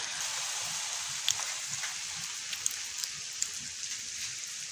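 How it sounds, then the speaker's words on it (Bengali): Rain falls steadily on a cold, wet day, a soft, even patter with a few sharper nearby drips standing out now and then, quiet and without voices. "বৃষ্টি হওয়া শুরু হয়েছে"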